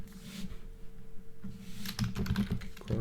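A name is typed on a computer keyboard in quick, close keystrokes. The typing is sparse at first and becomes a dense, rapid burst of clacking near the end, over a low background hum with no speech.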